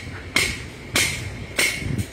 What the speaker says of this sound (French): Désolée pour le bruit, ils font des travaux.